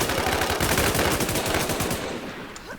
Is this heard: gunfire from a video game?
yes